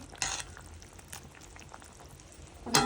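A crab curry gravy simmers in a pot with a faint, continuous bubbling and a few louder pops near the start and end, close and without talk.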